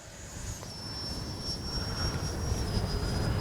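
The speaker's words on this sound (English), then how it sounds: "Take off and land one more time." A Freewing 90mm Zeus RC jet flies past with a steady, loud ducted-fan whine and a broad rushing roar that builds slightly over a few seconds, with no voices.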